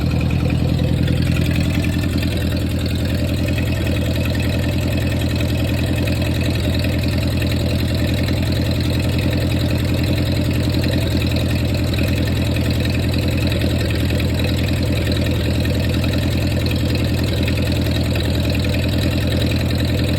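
A 1948 Ford 8N tractor engine, started after sitting more than ten years, idles loud and close with a steady, even low chug that holds for the whole stretch, no voices over it.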